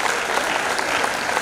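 A live audience applauds at a Hindi poetry and comedy event on a theater stage, a dense, loud, even wash of clapping that holds steady throughout.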